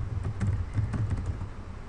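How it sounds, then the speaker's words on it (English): Quick, light keystrokes on a computer keyboard typing a web address into a browser on the Red Star OS 2.0 system, a short burst of clustered clicks that trails off, close and fairly quiet, with no talking. "let's type apple.com."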